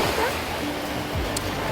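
Sea waves wash over rocks on the shore at Phuket, Thailand, making a continuous, close, loud rushing hiss with no distinct breaks or pauses.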